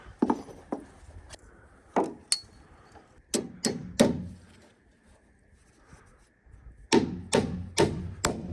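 Hammering on log home rafters, sharp wooden strikes outdoors, in uneven clusters of two to four blows separated by short pauses, fairly close and loud.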